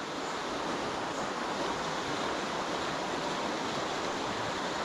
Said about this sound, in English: Water's running really fast, look.